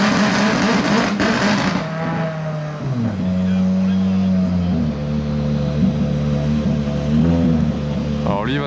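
A rally car engine at the 2022 Monte-Carlo Rally, near the service park, revs loudly with a steady, stepping pitch that rises and settles, close by, with people talking over it.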